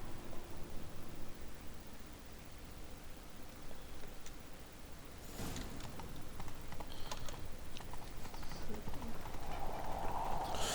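Rapid hoofbeats of a galloping horse in The Witcher 3: Wild Hunt clatter continuously over steady background noise and game ambience, with a burst of louder activity midway.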